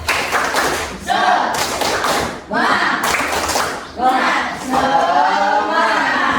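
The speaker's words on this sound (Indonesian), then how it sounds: "Nah, tepuk semangat." Sixth-grade elementary pupils in a maths class do a rhythmic spirit clap together, with loud, close bursts of group clapping and thumping separated by short pauses, mixed with children's voices.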